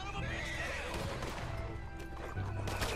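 A horse in Red Dead Redemption 2 gives a loud, rough whinny over hoof clatter and dense game ambience, with a hint of voice mixed in.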